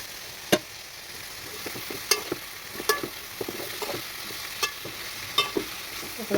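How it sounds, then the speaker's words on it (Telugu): Chopped snake gourd pieces fry in an onion tempering, a steady low sizzle with sharp intermittent clicks and scrapes of a spoon stirring against the pan. "తరిగిన ముక్కలను తాలింపులో వేసుకోవాలి."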